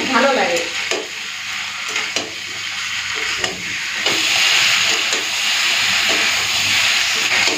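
Egg, potato and cauliflower sautéing in a pan, a steady loud sizzle and hiss with several scraping stir strokes breaking through, no voices over it.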